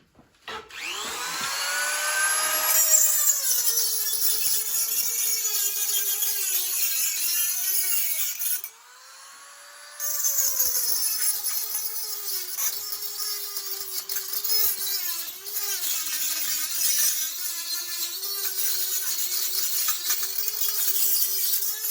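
A small high-speed rotary tool whines steadily as it smooths sharp edges on a metal step of a 1/4-scale John Deere 4020 model tractor frame, with pitch wavering under load and a brief pause midway.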